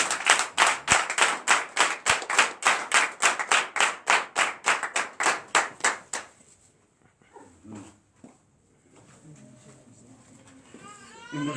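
A church congregation at a night deliverance and prophecy service claps in a steady, rhythmic beat, loud and close, for about six seconds before stopping; afterward scattered voices and faint cries continue under a quieter background.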